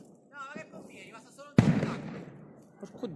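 A sharp, loud bang of a bomba carta firecracker on New Year's Day bursts after a short voice, followed by a fading rumble and quieter voices.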